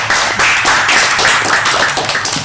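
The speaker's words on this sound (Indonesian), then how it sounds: "Tepuk tangan deh" Hand clapping during a casual chat, a loud, close burst of rapid claps from a few people that continues steadily throughout.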